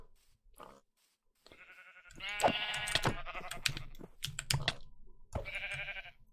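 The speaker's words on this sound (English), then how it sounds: "The sheep are also violent and evil." Sheep bleat repeatedly in the Roblox game The Simple Life 2, in several nasal, wavering calls with short gaps between them, mixed with faint clicking and soft knocks.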